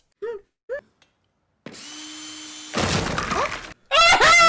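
Power drill boring into a wall on a TV show, starting as a steady whine that breaks into rough grinding bursts, then a loud final burst, preceded by two short voice sounds.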